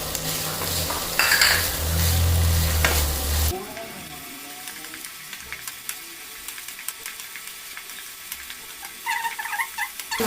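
Ginger, garlic and chili paste hits onions frying in a pan, setting off a loud, dense sizzle that drops off sharply after a few seconds, leaving quieter crackling and faint stirring clinks.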